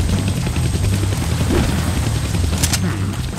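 Helicopter in the Deadpool video game, a loud, steady rotor thrum with pulsing low chop that runs throughout alongside a bright, rattling burst near the end.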